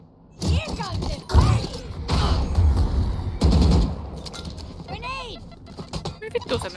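Gunfire in the tactical shooter Valorant, with bursts of rapid shots and heavy impacts clustered early and mid-clip, loud and close, mixed with game sounds while players talk over it.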